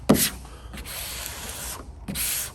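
A hard squeegee rubs and scrapes across Ford Bronco stripe vinyl in close, dry swipes, with two longer strokes after a sharp starting scuff.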